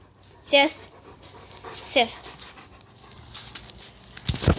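A dog panting close by in quick, breathy bursts, with a few short spoken words and a sharp noise near the end.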